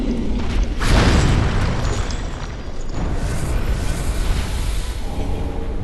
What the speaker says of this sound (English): Exploding bolt.